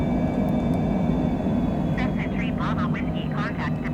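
A Cessna climbs after takeoff on a flight from Key West to Orlando Executive, a steady engine drone inside the cabin that runs on throughout while a person speaks over it.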